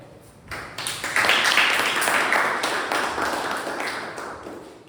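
A round of applause from attendees at a Toastmasters club meeting swells in after a quiet start, a steady dense patter of many hands that holds at a moderate level and slowly tapers toward the end.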